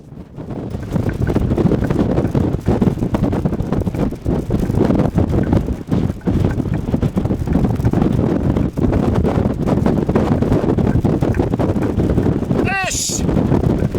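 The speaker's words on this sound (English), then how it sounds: "Unfortunately today, I'm getting a bit hampered by the strong wind." Strong wind roars steadily into the microphone on the summit of Sale Fell in the Lake District, buffeting and rumbling throughout, with a brief high whistle near the end.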